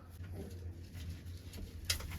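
Pigeons of a pet loft breed cooing in a coop, a low steady murmur of several birds running throughout, with a soft rustle near the end.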